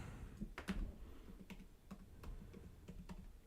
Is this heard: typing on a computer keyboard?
yes